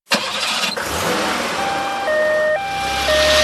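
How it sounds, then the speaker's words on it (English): An ambulance engine cranks and starts, then a loud two-tone siren begins alternating in a steady high-low pattern close by. "Ambulance."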